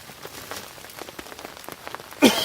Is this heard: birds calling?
no